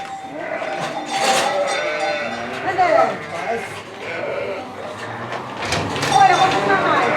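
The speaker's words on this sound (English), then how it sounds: "Come on, sheep." Several sheep on a Portugal farm bleat repeatedly as they are herded toward a feeding trough, their calls overlapping at varying distances, with a door sliding and a person calling to them.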